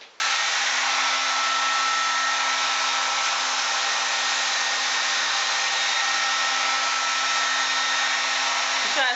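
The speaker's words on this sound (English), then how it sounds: "I'm going to take a dryer and try to mold that." Handheld hair dryer blowing steadily on a wig being molded in place with E6000 glue, a loud continuous close airy whoosh with a faint motor hum, running unbroken throughout with no talking.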